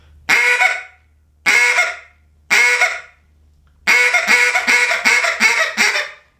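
A duck call blown in short quacks, each sharply pinched off with a tick: three separate spaced quacks, then a faster run of five or six clipped quacks in quick succession, loud and close.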